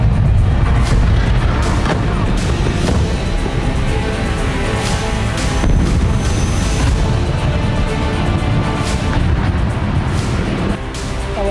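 Heavy, continuous rumbling with repeated deep booms and blasts from Israeli airstrikes on Iranian cities, loud and dense throughout with no speech.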